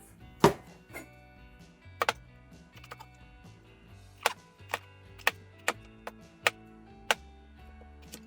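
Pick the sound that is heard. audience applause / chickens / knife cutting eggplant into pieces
knife cutting eggplant into pieces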